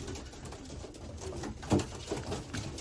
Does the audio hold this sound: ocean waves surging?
no